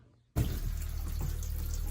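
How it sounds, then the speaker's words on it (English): An RV water pump pulls a second gallon of antifreeze through the travel trailer's drained water lines, starting abruptly and then running as a steady, close rushing flow of liquid at a tap, with no talking. "I'm going to pull this 2nd gallon through now by just using the pump."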